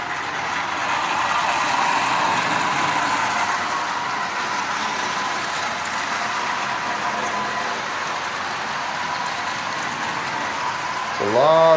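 A Marx B&O diesel toy locomotive pulls 14 plastic cars, a steady close whirring, rattling rumble of the little motor and wheels on track running throughout, rising slightly at the end.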